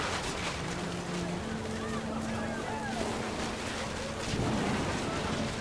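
Steady rain with low rumbling thunder in the video game What Remains of Edith Finch, a continuous wash of downpour with a deep rolling swell, heard alone.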